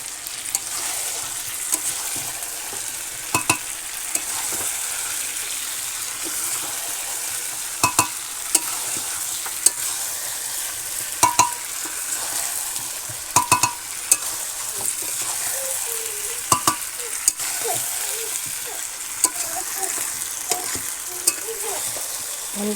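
Meat fries in a pan in a village kitchen while fried potatoes are added and stirred in, giving a continuous close sizzle broken by repeated sharp scrapes and clacks of the stirring utensil.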